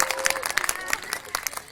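A school audience at a quiz programme claps for the winning team, a short burst of scattered, fairly close hand claps.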